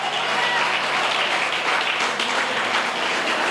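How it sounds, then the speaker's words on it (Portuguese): Steady, dense applause from a large church congregation during a sermon, continuous and loud throughout with no pauses. "Você pode aplaudir e glorificar Jesus?"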